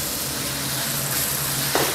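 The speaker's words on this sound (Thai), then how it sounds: "ผัดจะเริ่มสุกประมาณนี้นะครับไม่ต้องสุกเยอะมาก" Thinly sliced pork stir-fries in a hot pan for soy sauce fried rice, a loud continuous sizzle with a spatula scraping and stirring, close up and alone without talk.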